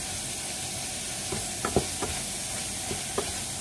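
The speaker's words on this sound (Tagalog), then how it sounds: "napiprito na yung ating hipon" Shrimp frying with ginger in a pan, giving a steady soft sizzle with a few brief stirring clinks and scrapes.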